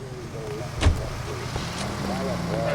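A car driving in the video game L.A. Noire, its engine droning steadily beneath a brief thump, with people talking over it.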